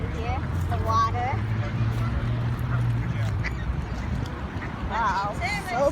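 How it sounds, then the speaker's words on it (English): Ducks quacking in short nasal calls from a flock on open water by a shore where boats are moored, heard under a person talking, with a low outdoor rumble throughout. "So there's a lot of ducks you can see."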